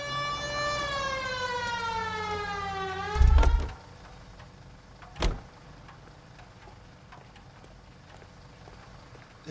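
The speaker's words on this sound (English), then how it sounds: "Turn on the siren and pull her over." A police car siren in the L.A. Noire video game wails with rising and falling tones, loud and close. It cuts off with a heavy thump, followed by a sharp bang and quieter background ambience.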